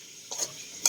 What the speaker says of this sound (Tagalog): Masama halo na lahat ng ingredients.